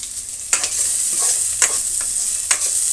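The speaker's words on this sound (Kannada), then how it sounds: "ಇಷ್ಟನ್ನು ಫ್ರೈ ಮಾಡ್ಕೊಳ್ಳೋಣ" Sliced onions and curry leaves fry in a pan with a steady close sizzle, broken by three sharp stirring scrapes at roughly one-second intervals; nobody speaks.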